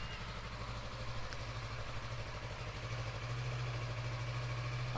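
A 2016 Kawasaki Versys 650 motorcycle engine idles steadily close by, a continuous low, even rumble with no revving and no voices.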